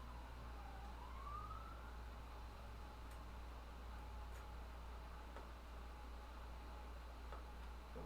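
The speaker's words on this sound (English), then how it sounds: "more police cars" Police car sirens pass outside, a faint rising and wavering wail over a steady low rumble of background noise, distant and continuous with no talking.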